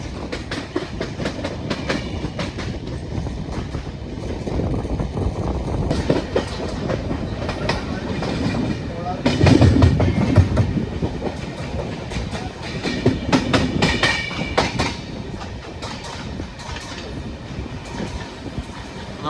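The Kozhikode Jan Shatabdi Express, on its first run with LHB coaches, rolls toward Kallayi station near Kozhikode: a steady, loud rumble heard from aboard, with rhythmic clickety-clack of wheels over rail joints and a heavier surge midway, no speech.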